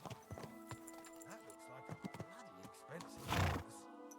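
A horse in the medieval game Kingdom Come Deliverance II whinnies loudly and snorts while hooves clip-clop in a steady rhythm close by.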